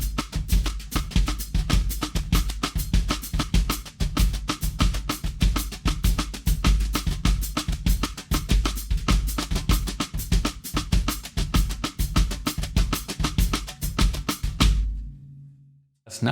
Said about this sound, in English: Now let's try that same samba pattern, this time using a brush on the snare.